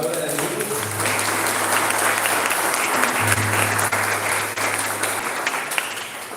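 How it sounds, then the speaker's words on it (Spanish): A prayer-group congregation at a live church service gives the word of God a loud round of applause, a dense, sustained clapping that lasts about six seconds and fades slightly at the end. "Yo te invito a que le demos un aplauso fuerte a la palabra de Dios."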